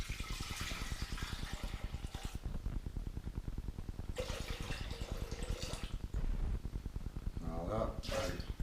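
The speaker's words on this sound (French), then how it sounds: "on met nos 600 g d'eau" 600 g of water pours into a Fagor compact connected kitchen robot, a steady close splashing stream lasting several seconds with a short pause and a second pour, while a person talks over it.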